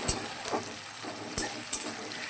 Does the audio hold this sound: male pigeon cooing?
no